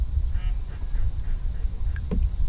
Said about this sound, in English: Here's a mallard.